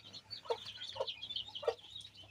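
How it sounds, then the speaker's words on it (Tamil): A mother hen clucks softly in short, irregular bursts on a country chicken farm, with faint chirping around her and no voices. "இதான் தாய் தாய்க்கோழி ரொம்ப அக்ரெசிவாக இருக்கும்"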